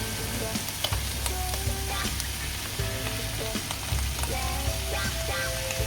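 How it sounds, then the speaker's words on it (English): Canned tuna sizzling steadily in a hot pan, a continuous crackle punctuated by sharp clicks of stirring, with soft music in the background. "And sizzle it a little bit more"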